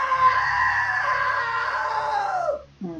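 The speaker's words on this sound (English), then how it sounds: "Now that was a great scream." A long, loud scream from a character in the video game What Remains of Edith Finch holds steady for over two seconds, then trails off and drops in pitch.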